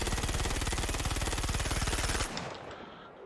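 A Gemini C54 SMG in the Star Citizen video game fires one long, rapid panic burst for about two seconds, then cuts off and leaves a fading echoing tail.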